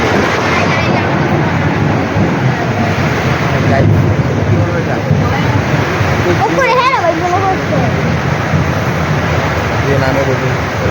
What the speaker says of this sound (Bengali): কি পরিমাণ বৃষ্টি হচ্ছে এটা আপনাদের শেয়ার করবো।